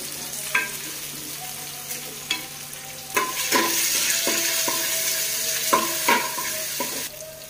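Onions and curry leaves frying in oil for chicken curry, a steady close sizzle broken by sharp clinks and scrapes of a spoon against the pan, with no talk.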